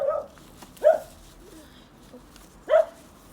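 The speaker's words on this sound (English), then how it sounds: "You have to excuse the barking." A dog named Winston barks at an allotment, two sharp nearby barks about two seconds apart with a faint yip between, otherwise quiet outdoors.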